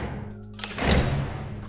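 A door opening in the video game DayZ makes a single heavy, close thunk followed by a short low rumbling creak that fades into a dull ambient drone.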